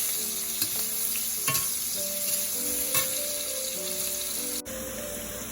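Onions and curry leaves fry steadily in hot oil for a Malaysian sambal tofu, giving a continuous close sizzle with a few faint stirring clinks scattered through it and no talk.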